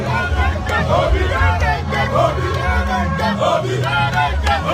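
A huge political rally crowd at Michael Okpara Square in Enugu roars and chants continuously, a dense near wall of shouting and cheering voices with babble throughout.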